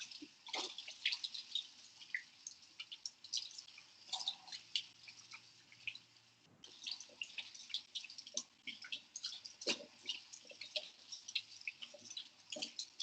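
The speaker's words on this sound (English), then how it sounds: "So I'm going to wash my hands, warm soap and water for just about." Hands being washed with warm soapy water from a kitchen tap give a steady, close trickle and splash with scattered drips and rubbing sounds, and no voices.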